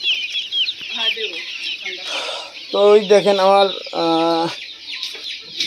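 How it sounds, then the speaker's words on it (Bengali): Desi chickens cluck and call nearby in short bursts, a couple of louder clucking runs standing out, while someone talks over them. "এই যে দেশি মুরগি এই যে দেশি মুরগি অনেক দেশি মুরগি উঠাইছে বাচ্চা"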